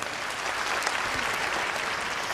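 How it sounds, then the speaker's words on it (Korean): Audience at the 2012 Miss Korea pageant final applauding, a steady wash of clapping from a large crowd filling the hall. "여러분 격려의 박수를 부탁드리겠습니다"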